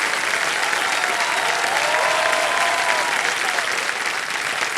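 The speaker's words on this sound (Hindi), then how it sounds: "तालियां बजते रहे विजय जी के लिए।" A studio audience at a TV quiz show applauds loudly and continuously, a dense wash of clapping with faint music beneath.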